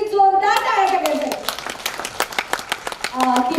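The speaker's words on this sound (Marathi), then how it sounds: "आमच्यासाठी जोरदार टाळ्या टाकायच्या." Audience applause at a journalists' association gathering: after a voice trails off, a crowd breaks into a burst of irregular, fairly loud hand claps that thin out toward the end.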